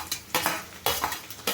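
Spatula scraping and clanking in a pan as green onions are stir-fried for Manchurian over a full flame, with several sharp metallic strokes under a soft sizzle and no talking.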